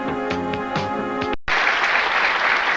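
Broadcast applause for a women's pro bowling semifinal win at a casino lanes tournament: a short burst of music cuts out, then a steady wash of crowd clapping continues to the end.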